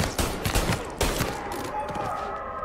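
Rapid bursts of gunfire from the video game Mafia, loud and dense at first, with sharp shots clustered in the opening second and a ringing tail as the firing thins out.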